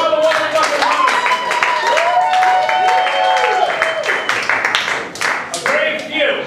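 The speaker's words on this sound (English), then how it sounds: "Big round of applause for all the wonderful players." An audience at an improv comedy show applauds continuously for several seconds, the clapping dense and sustained, with a voice speaking over it.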